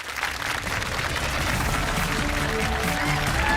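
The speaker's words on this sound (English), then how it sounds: "a big round of applause and a whoop from the audience there" A TV quiz studio audience breaks into a sustained round of applause with whoops and cheers, loud and steady throughout.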